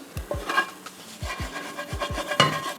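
Repeated scraping and rubbing of a utensil against a frying pan, loosening cooked bits of a vegan Spanish omelette filling, in short irregular strokes with light clinks, close by and moderately loud.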